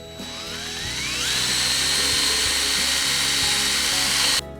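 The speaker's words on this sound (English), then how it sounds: "take a 3/16 drill bit and drill through the top and bottom locating holes" A power drill with a 3/16 bit whines up to speed and runs steadily at high pitch while boring holes for a motorcycle holeshot device, then stops abruptly.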